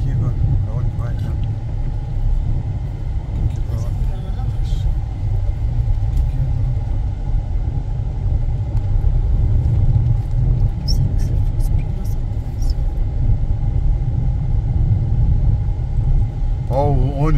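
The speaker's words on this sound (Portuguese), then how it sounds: "Olha o ônibus que vem lá do centro, lá, ó." A city bus approaches from the town centre at Lagoa da Conceição in Florianópolis, a steady, close engine rumble that lasts throughout, with road noise and faint scattered background sounds.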